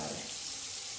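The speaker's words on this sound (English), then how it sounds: "and I'm gonna add some water." Water runs into a pan containing baking soda, a brief, close hiss of flowing liquid that fades slightly over about a second.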